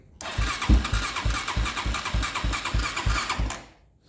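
A Honda 400EX ATV engine, one that had been failing, starts with a loud crank and settles into a steady, evenly pulsing idle up close, then cuts out and fades near the end; no talk.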